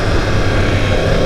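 Yamaha R1 sport motorcycle engine with its stock exhaust, a steady, smooth, continuous drone close by with no speech over it.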